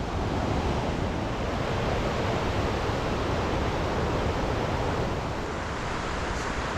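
A river rushes at High Falls State Park as a dense, constant roar of water that stays loud and steady throughout, with no break in it.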